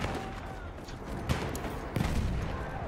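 Gunfire in a World War I shooter video game set in a Verdun trench battle, a few distinct shots standing out over dense background battle noise and rumble, with faint voices underneath.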